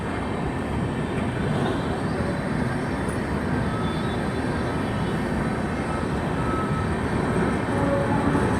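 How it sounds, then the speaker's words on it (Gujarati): Intercity train from Rajkot toward Jamnagar and Hapa passing a station, a steady, loud broadband rumble of wheels and carriages holding constant throughout with no voices. "હાપા એ તરફ જતી ઇન્ટરસિટી ટ્રેન છે,"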